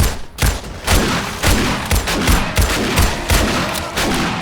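Rapid bursts of gunfire from a gun in the survival video game 7 Days to Die, loud and continuous with sharp repeated shots throughout.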